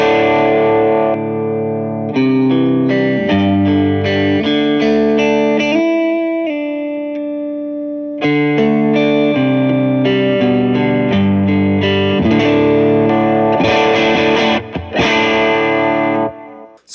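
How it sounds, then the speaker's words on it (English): Clean tone from a homemade Thinline Telecaster fitted with Lambertones Blondies pickups, played through a compressor: a loud, continuous run of strummed chords and ringing notes with a short gap near the middle. "This is a homemade Telecaster, Thinline Tele, Lambertones Blondies pickups in there."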